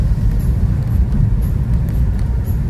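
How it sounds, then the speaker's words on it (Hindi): Inside a Kia Seltos running on E20 ethanol-blended petrol, the engine gives a loud, steady low droning roar, a constant rumble with faint high whistles over it. "जैसे एरोप्लेन का इंजन चल रहा है मेरी गाड़ी में"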